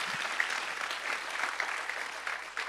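A church congregation gives sustained applause in praise, a fairly distant, even patter of many hands clapping with a faint voice or two mixed in.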